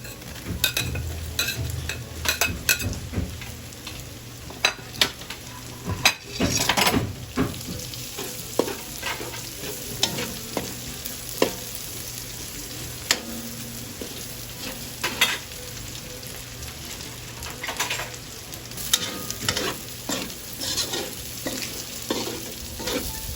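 Kikiam slices stir-fry in a pan for pancit chami, a constant sizzle broken by frequent sharp scrapes and clacks of a spatula against the metal, close up with no voices.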